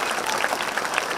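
An audience claps for a group of children at a gathering, a dense even burst of applause that continues steadily.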